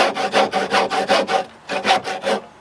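Hand saw cutting through timber while building a garden room cabin: a steady run of rhythmic rasping strokes, about six quick passes, a brief pause, then three more, close and loud with no talk.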